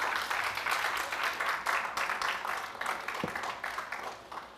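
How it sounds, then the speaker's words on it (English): A church crowd gives a choir another round of applause, steady dense clapping filling the room at moderate volume with no one speaking over it. "Let's get a choir another round of applause."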